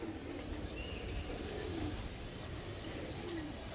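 Pigeons in a loft give soft, repeated throaty coos against steady background hum, close by and moderately loud with no speech.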